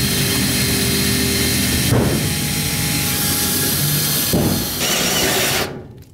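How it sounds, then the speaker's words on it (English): A 3/4-inch power drill whines continuously while boring into sheet metal for a humidifier installation, with a couple of pitch shifts as it bites, then winds down and stops. "I'll just use my 3/4-inch drill, make a hole so I can stick my snips in there."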